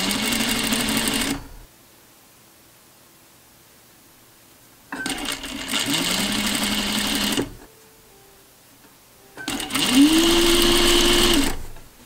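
Sewing machine stitching cording onto a garment neckline, running in three steady whirring bursts separated by pauses, with the motor pitch rising as each run speeds up, close and clear with no talking.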